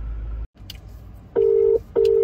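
Two steady electronic phone tones sound while calling an uncle, each lasting about half a second, clear and close, following a short burst of handling noise.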